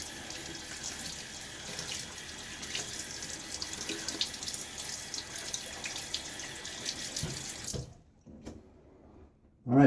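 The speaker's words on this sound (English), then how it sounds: "I'm going to rinse off the side of the tub here." Tap water streams and splashes against the side of a shaving cream tub in a steady, close rush before cutting off, leaving a few faint drips and small knocks.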